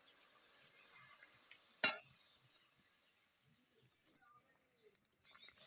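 Water poured into a hot pan of Bengali shukto, a vegetable curry with poppy seed, gives one sharp sizzling burst that settles into a faint, steady hiss. It is quiet, with no talking.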